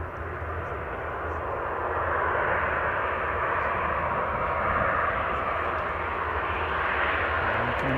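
Tui airliner coming in to land at Manchester Airport, a steady broad engine roar holding at moderate loudness throughout, alone with no talk.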